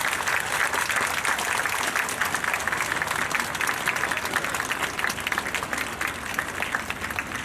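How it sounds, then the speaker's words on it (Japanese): Sustained, dense applause from a crowd at a women's international hockey match between South Korea and the USA honours both national teams and children, steady throughout with no break. "両国代表選手とキッズたちに今一度盛大な拍手をお願いいたします。"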